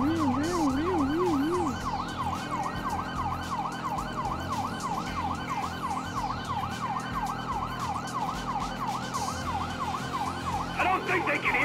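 Wailing police sirens from a Grand Theft Auto V pursuit in a tunnel, several overlapping wails cycling steadily and loudly over engine rumble for the whole stretch, with a different siren tone cutting in near the end.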